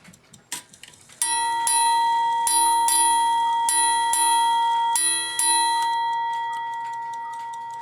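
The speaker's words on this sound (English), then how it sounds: "It's going to go up in the air and let it strike all the bells." A Seth Thomas ship's bell clock with a Hermle movement striking its bells, several bright metallic chimes in paired strokes that ring out close and clear, with a few mechanism clicks beforehand and a long decaying ring at the end.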